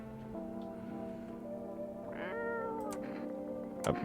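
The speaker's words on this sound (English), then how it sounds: "You reach out and pet the cat." A cat meows in a video game, a short rising-and-falling mew over a steady tonal hum of in-game ambience, with no talking.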